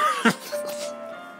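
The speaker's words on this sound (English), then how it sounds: "I'm sorry, I had a cough." A single short cough bursts out near the start, close and fairly loud, then fades into a quiet room with a faint steady hum.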